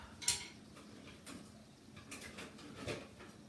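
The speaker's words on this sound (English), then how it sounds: "I'm gonna go ahead and fish out these shrimp. I'm gonna turn my heat off. I need a little spatula here." Shrimp lifted out of a pan with a small spatula: a few light metallic scrapes and clinks, scattered and fairly quiet, with no speech.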